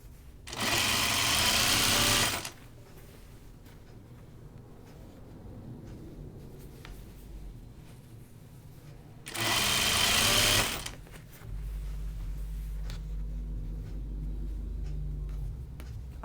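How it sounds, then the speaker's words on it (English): Sewing machine hemming a caftan, two loud bursts of stitching of about two and one and a half seconds separated by a quiet pause, with a low steady hum afterward. "I'm hemming it, Rebecca."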